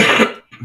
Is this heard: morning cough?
yes